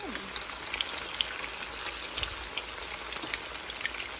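Chicken pieces fry in hot oil with a steady crackling sizzle, close by, dotted with sharper pops and spits throughout.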